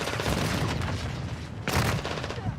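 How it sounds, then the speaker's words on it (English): A stun grenade goes off in Call of Duty Modern Warfare II, a sharp bang bursting out over continuous loud game gunfire and explosions, with brief voice chat in the background. "Stun grenade out!"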